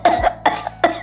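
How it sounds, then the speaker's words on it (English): Three quick, sharp coughs from a person, close and distinct, evenly spaced within about a second. "Why you dey cough?"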